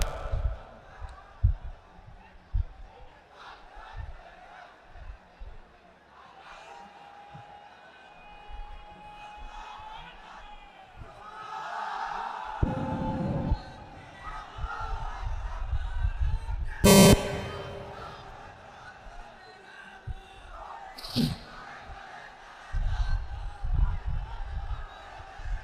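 A large crowd at a 2025 Bangla Islamic sermon by Mizanur Rahman Azhari roars Allahu Akbar in answer to a man's takbir call, the loud collective shouts coming in several swelling bursts between his amplified lines.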